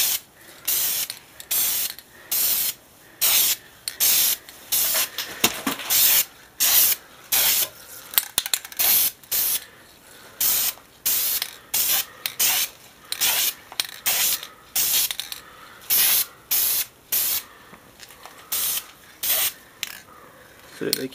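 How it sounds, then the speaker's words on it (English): Repeated short hissing bursts from a spray paint can being applied to Xbox 360 console pieces, quick sweeping sprays in an uneven rhythm with brief pauses between them, close and fairly loud. "get your spray paint. Take it up. And you want to do fast sprays across."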